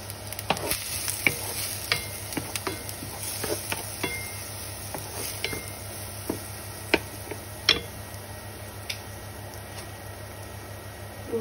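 Onions frying in a pan for stuffed baked aubergines, a soft continuous sizzle with scattered crisp crackles and spoon ticks against the pan, fairly quiet and close.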